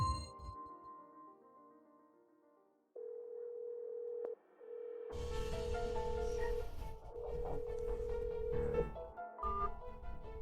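A steady electronic phone tone repeats in long beeps, later joined by louder mixed background sounds; no clear talking.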